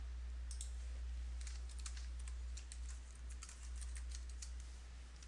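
Quiet clicks of a computer keyboard as a username is typed, irregular keystrokes in short bursts over a faint steady background hum.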